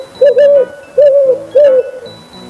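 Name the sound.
owl hooting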